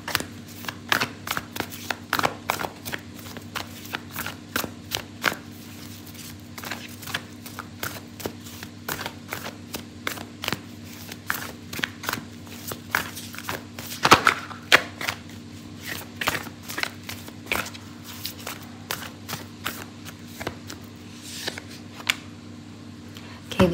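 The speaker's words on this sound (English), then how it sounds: "So I'm going to pull out an oracle card for you." Oracle cards shuffled by hand during a tarot reading: repeated soft riffling and slapping bursts in an irregular rhythm, close and moderately loud over a steady low hum.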